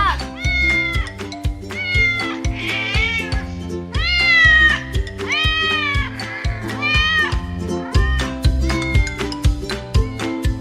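Kittens meow over and over in high, bending cries during a radio show, close and lively, set to a rhythmic music bed with a steady pulse.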